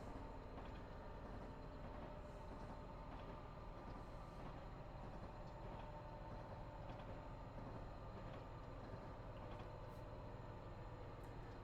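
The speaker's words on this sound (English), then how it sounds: "I swear this train is too long for California." A long freight train in a railroad video game, running through Cajon Pass with a continuous low engine rumble and wheel noise, steady and unbroken throughout.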